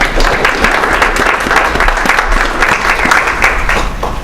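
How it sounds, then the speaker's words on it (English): A foundation event audience breaks into loud, sustained applause, many hands clapping in a dense, steady roar close by that carries on without a break. "Could we have a round of applause, please?"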